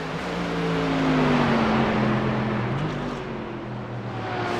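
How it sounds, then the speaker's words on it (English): An Audi racing car engine in the iRacing video game drones steadily, its pitch sliding down and then climbing again as it revs, with a continuous mechanical hum and no voices. "I like the sound of the Audi though."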